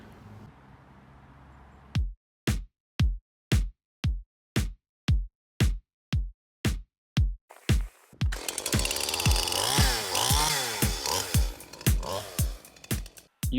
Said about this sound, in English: Using a chainsaw can be dangerous,